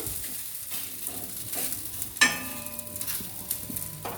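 Ragi (finger millet) dosa cooking on a pan gives a continuous soft sizzle and frying hiss. Midway comes a single sharp scrape and clatter as it is flipped, and then the sizzling goes on alone.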